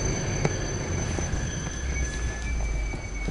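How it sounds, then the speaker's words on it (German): A tram rolls through the old town of Köpenick in east Berlin, a steady rumbling rail noise with faint high metallic wheel squeal, moderately close and continuous, with no talking. "Dann die Straßenbahn."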